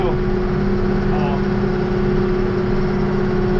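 A tractor hauling manure, running in power shift gear, drones with a steady, loud engine note that holds even and close throughout.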